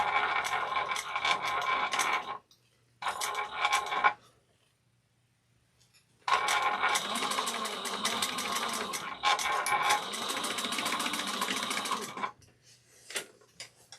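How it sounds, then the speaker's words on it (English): A sewing machine stitching a quarter-inch seam on a bag, with back stitching at the start and end: loud, close mechanical whirring in several bursts, separated by short pauses and brief silent gaps. "Back stitching well at the beginning and end."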